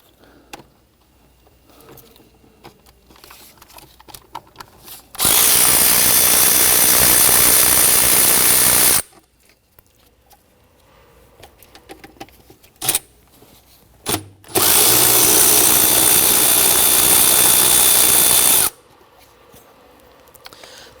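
A power tool spins out the 12mm fuel rail bolts on a 2011-2015 Kia Sorento in two loud, sustained bursts of about four seconds each, separated by quiet stretches with faint handling clatter.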